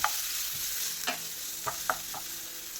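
Onion and slit green chillies sizzling in hot oil in a pan, a steady close hiss with a few sharp spoon scrapes and taps as the mixture is stirred.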